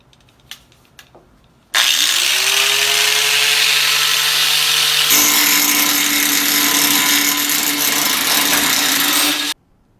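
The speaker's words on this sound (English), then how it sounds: "I'm gonna grind these corners down now." A power grinder bites into the metal corners of a Blackstone griddle cover hinge, starting abruptly after a few quiet taps and then holding a loud, steady whine for about eight seconds, shifting pitch midway before cutting off.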